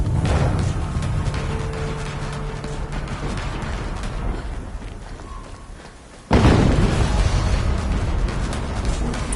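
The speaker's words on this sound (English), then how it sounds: "Another explosion." A loud rumbling blast in Horizon Zero Dawn Remastered hits abruptly partway through after several seconds of busy game sound, then booms and rolls on with a sustained roar.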